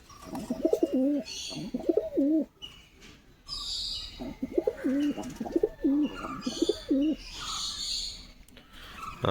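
Pigeons in a home loft with males and females together, close repeated rolling coos in two clear bursts with scattered wing flutters and shuffling between them.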